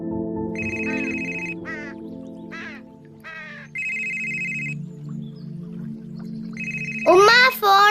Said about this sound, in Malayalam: ഉമ്മ ഫോൺ അടിക്കണേ.